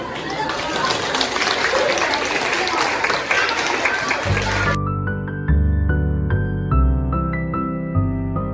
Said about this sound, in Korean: 우리 친구들의 멋진 무대에 아낌없는 박수 부탁드립니다.